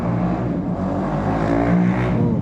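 A motorbike engine runs steadily outside throughout, a continuous low drone with a slight rise in pitch as it revs, moderately loud and close, with no speech over it.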